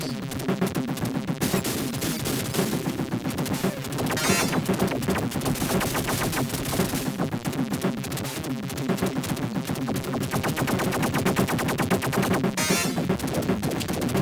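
Rapid, continuous synthesized firing of missiles from the Life Force arcade game, a dense stream of gunfire-like bursts that runs for the whole stretch.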